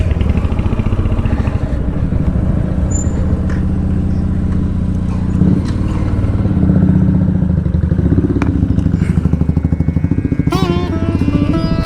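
A motorcycle rumbles steadily up close during a ride, its engine droning without pause before it is brought to a stop and parked beside a Hanuman temple established by Samarth Ramdas Swami.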